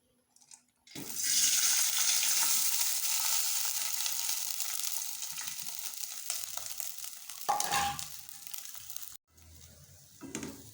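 Cold rice tipped into a pot with about a tablespoon of oil, giving a loud steady sizzle and scraping stir for several seconds that fades with a few clunks near the end.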